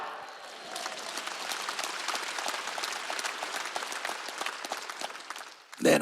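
Church congregation clapping steadily at a Wednesday worship service, a dense broadband patter of many hands sustained throughout before a brief loud thump near the end.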